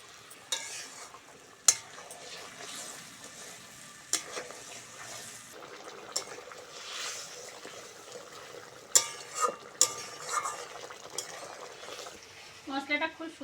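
Salt, turmeric and chili powder frying and being stirred in a pan for a lentil fritter curry, a steady soft sizzle broken by scrapes and sharp clicks of a spoon against the pot.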